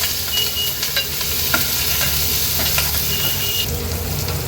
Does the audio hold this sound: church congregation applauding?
no